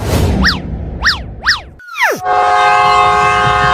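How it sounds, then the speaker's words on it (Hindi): A loud, sustained train horn blares alone, preceded by a few springy chirping effects and a quick falling swoop, as a train starts to move. "ट्रेन चलने लगी"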